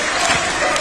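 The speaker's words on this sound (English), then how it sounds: "listen to this crowd, this sold-out crowd here at the Coventry Skydome" Sold-out wrestling crowd at the Coventry Skydome during a NOAH tag team title match, a dense, steady roar of cheering and applause that fills the short moment without a break.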